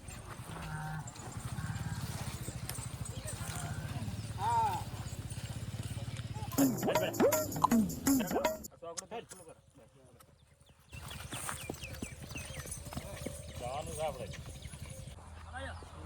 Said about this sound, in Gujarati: મારી ઘોડી હેરતી કેમ નહીં